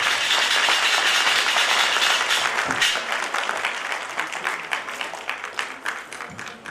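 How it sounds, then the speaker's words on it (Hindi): A gathered crowd at a satsang breaks into applause, loud dense clapping at first that thins into scattered, separate claps as it fades. "एक बार सभी ताली बजाइए।"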